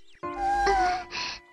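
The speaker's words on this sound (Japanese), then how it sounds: "猫がいるのか？" A cat meows in the video game Shenmue, a single clear, drawn-out meow followed by a shorter second cry, close and alone.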